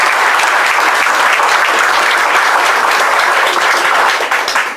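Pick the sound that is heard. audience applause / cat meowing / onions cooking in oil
audience applause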